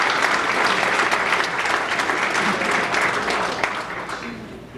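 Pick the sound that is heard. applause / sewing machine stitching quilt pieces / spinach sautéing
applause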